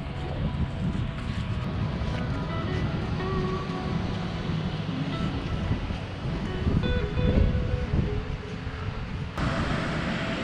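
A waterfall in an alpine valley roars as a continuous broadband rush, steady and moderately loud, with wind buffeting the microphone and no talk.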